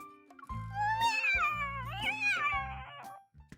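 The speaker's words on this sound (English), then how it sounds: "We find the cat lying on the side with 2 newborns." A mother cat lying with two newborn kittens cries out in a video game scene, a run of close, strained, wavering meows and yowls, rising and falling in pitch, with no talk.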